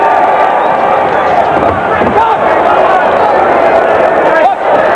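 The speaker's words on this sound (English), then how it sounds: "You hear the crowd in the background chanting USA." A boxing crowd at the 1984 Summer Games bout between the USA and Cuba fills an arena with loud, continuous roar and chanting, dense and sustained, with a commentator's voice faintly mixed in.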